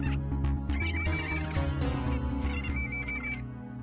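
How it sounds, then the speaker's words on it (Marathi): A telephone ringtone plays loudly and continuously in a household, its bright electronic melody repeating without pause. "उचलू का फोन?"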